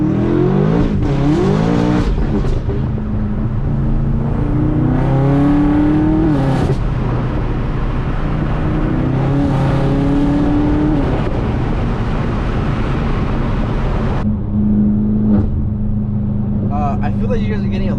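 BMW F10 M5 with BMC intake filters and a deleted charcoal filter, accelerating hard in Sport Plus mode with the windows open. The engine note climbs repeatedly through the gears over heavy wind noise, with occasional talk from inside the cabin.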